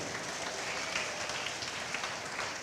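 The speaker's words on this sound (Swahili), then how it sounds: "Piga makofi pia hapo" A church congregation clapping their hands, a dense, steady patter of many hands at a moderate distance with no talking.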